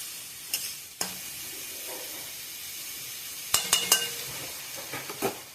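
Eggplant pieces frying in a pan for a mixed vegetable dish with red amaranth stalks, a soft steady sizzle broken by a few sharp clinks and scrapes of the spatula against the pan, no voices.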